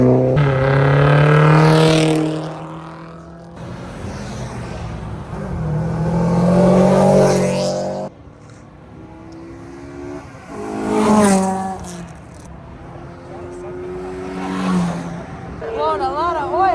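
A turbocharged car engine that is blowing a lot of oil revs repeatedly, rising and falling in pitch through several loud pulls, with brief talking in between the revs.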